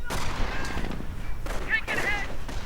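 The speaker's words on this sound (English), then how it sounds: "More sniper fire." Sniper shots and gunfire crack during a World War II strategy game battle with tanks and anti-tank guns, sharp reports scattered under an excited commentator's continuous talk.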